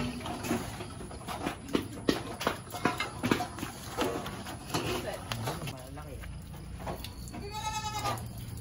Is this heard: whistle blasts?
no